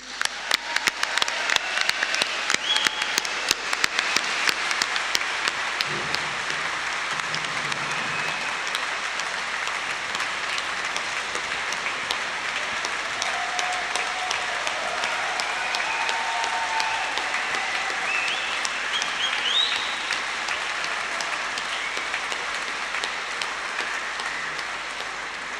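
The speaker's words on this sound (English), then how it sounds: "I'm not used to getting applauded" Sustained audience applause at the SNP Independence Convention, greeting Westminster Group Leader Stephen Flynn MP; a dense, steady roar of clapping from a large crowd fills the whole stretch with no speech over it.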